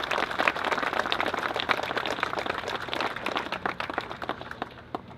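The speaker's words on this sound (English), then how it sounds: "we can give them a round of applause" Audience applause at a city hall demolition event, with dense clapping spread across the clip that gradually thins toward the end, moderately loud and without speech over it.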